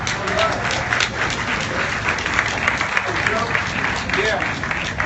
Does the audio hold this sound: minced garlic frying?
no